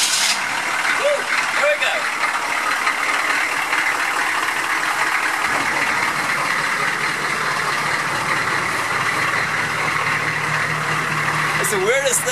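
A 1984 Suburban 4x4's 6.2 diesel engine cranks and catches, then settles into a steady, loud rumbling idle, with a person speaking briefly over it at the start.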